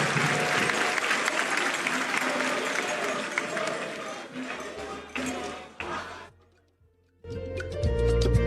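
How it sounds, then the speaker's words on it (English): A studio audience at the 2025 NSM Quiz final breaks into loud, dense applause for the contestants after the first round. The clapping fades over several seconds, drops to near silence, then gives way to music. "Please clap for them."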